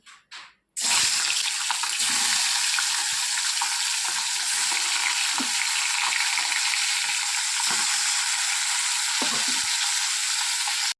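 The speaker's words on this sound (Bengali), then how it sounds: "তো তেল গরম হয়ে গেছে, এবার মাছগুলো দিয়ে দেবো।" Fish frying in hot oil in a hot kitchen, a loud, continuous hissing sizzle that starts abruptly after a short pause and holds steady, with faint clinks and stirring underneath.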